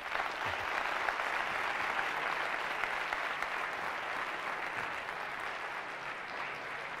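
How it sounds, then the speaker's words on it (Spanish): Audience applause at a security conference talk, a sustained, even wash of clapping from a crowd, fairly distant and quiet, continuing throughout without voices. "Un fuerte aplauso."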